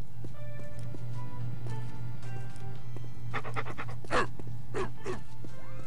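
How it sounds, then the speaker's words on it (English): Dogs pant rapidly in the video game Postal 2, quick breathy bursts rising near the end over a low steady game hum and faint ticking. "I'm lucky I could hear her over the dogs panting and the music."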